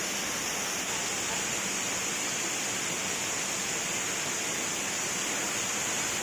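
The Siya Devi waterfall near Balod, Chhattisgarh, pours nearby as a steady, full rushing roar that holds constant and unbroken from start to finish.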